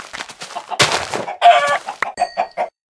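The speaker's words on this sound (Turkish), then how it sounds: "iyi tavuklar da varmış" Chickens in a video game cluck in short, uneven bursts, with a louder squawk and a crowing rooster-like call mixed in, close and clear with no talking.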